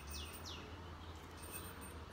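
A pet bird chirps in a few quick, faint upward sweeps near the start, set against steady low room hum in a home with new pets.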